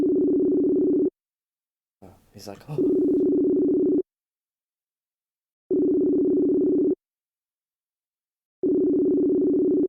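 A phone ringback tone sounds in long, even bursts separated by silent gaps, four rings in all, after the call button is pressed; a short spoken remark briefly cuts in between rings.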